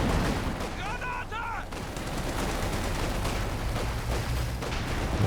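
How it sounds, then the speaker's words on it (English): Machine gun fire rattles in a real-time strategy battle, quiet bursts and distant crackling mixed with other effects, while a commentator talks. "machine gun covering this effectively"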